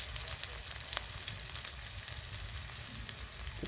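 Spice paste with green chili and chili powder fries in oil in a village kitchen, a dense continuous close-up sizzle with fine crackling and a few faint clinks; no talking.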